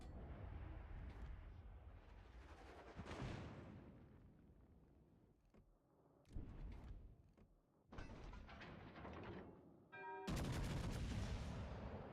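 Gunfire in a video game shooting at the player, with loud bursts and booming shots breaking out repeatedly, including a heavy sustained burst near the end.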